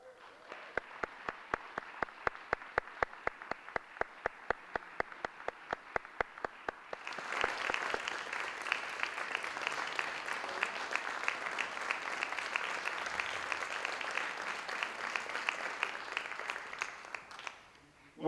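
Audience applause at a school's 30th anniversary opening ceremony honoring the class of 1973: a few scattered, evenly spaced claps that suddenly swell into dense, sustained crowd clapping, which then stops abruptly.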